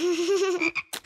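A cartoon frog in Bing croaks, one close, drawn-out tonal croak followed by a few short choppy bursts.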